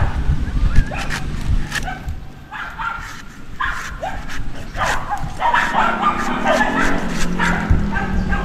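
Several dogs bark and yip in bursts, some near and some farther off, with whimpering sounds in between and faint background noise.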